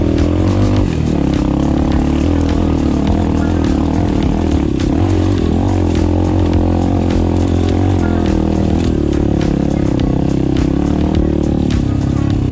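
An Apollo Sano DMZ 250 dirt bike climbs a steep slope under sustained throttle, its single-cylinder engine revving loudly and continuously close by, with rattling and clatter from the ride and no talking.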